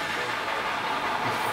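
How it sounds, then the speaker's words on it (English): A train rumbles past nearby as a loud, continuous roar of rolling wheels and rail noise, without distinct clacks or speech. "Max, do you see the choo-choo?"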